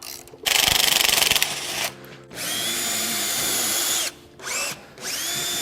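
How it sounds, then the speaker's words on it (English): A power drill bores out a cotter pin hole in a suspension spindle, a loud high whine bursting in for about a second, then a steadier grinding run with short pauses and restarts, no speech. "we're gonna go through and drill out that hole and drill out the cotter pin"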